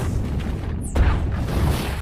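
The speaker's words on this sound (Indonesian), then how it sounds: "Ledakan dahsyat pun terjadi." A grenade blasts inside a zombie's mouth, a single deep boom landing about midway with a low rumble trailing off beneath dense background noise.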